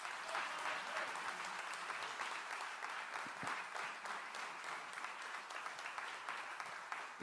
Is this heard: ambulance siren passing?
no